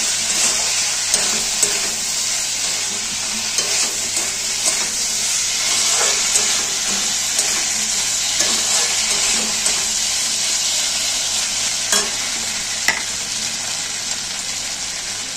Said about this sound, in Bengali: আলুটা দিয়ে একটুখানি কষিয়ে নেবো পোস্তটাকে।